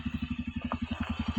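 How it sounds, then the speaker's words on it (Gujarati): A motorcycle engine runs nearby with a rapid, even, low thumping pulse, about a dozen beats per second, at moderate loudness with no talk over it. "હા બાઇક તો આવે હે કોકનું"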